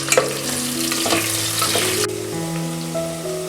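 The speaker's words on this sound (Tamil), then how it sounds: "வெங்காயம் நல்லா பொன்னிறமாக வதங்கிடுச்சு" Two large sliced onions frying in a pan for chicken biryani, a loud, close, steady sizzle with stirring, with a tonal hum running underneath.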